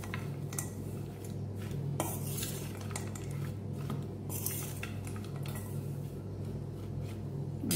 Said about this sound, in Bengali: আমি এটা মিশিয়ে নিই, মশলাটা ভালো করে মিশিয়ে নিই